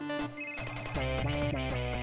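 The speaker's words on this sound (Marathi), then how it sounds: "फोन वाजला तर फोन कुठे?" A phone ringtone plays a bright, repeating electronic melody, loud and close, with steady tones throughout.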